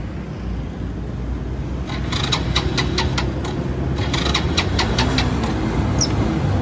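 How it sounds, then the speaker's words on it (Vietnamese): An old, long-unused Honda Dream motorbike is being started: a steady low engine rumble with a quick run of sharp ticking bursts partway through, heard up close with no talk. "Để lâu không nghe nổ máy nó khó nổ xíu."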